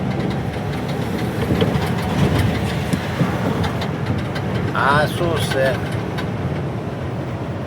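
An Ashok Leyland truck engine rumbles low and continuous on the Dahivel ghat road, a steady heavy drone with a brief higher whine partway through, while someone talks over it.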